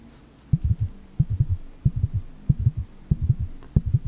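A person imitates a heartbeat with steady, low, thudding double beats that repeat in an even rhythm, close and fairly loud, with no talking over them.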